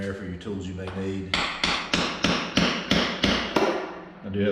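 Repeated metallic hammer blows ring out in a steady rhythm, about eight strikes, loud and close, following a brief tonal hum, during teardown of a GM 5.3-litre LS engine.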